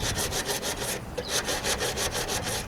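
Block sanding of Bondo body filler on a 1968 AMX hood produces close, steady back-and-forth rasping strokes in an even rhythm. No one speaks.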